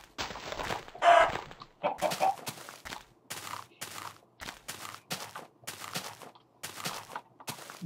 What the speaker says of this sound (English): Get it, chicken.